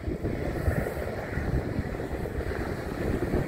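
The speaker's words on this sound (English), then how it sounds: "really windy here today" Strong wind blows outdoors on a scorching hot day in Las Vegas, buffeting the microphone with a continuous loud, rumbling roar that rises and falls slightly with no talk.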